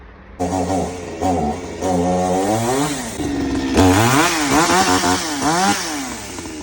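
A Zomax 5280 gasoline chainsaw with a 50 cc, 2.7 hp engine starts and runs close by, its engine rising and falling through several revving bursts, with no talk.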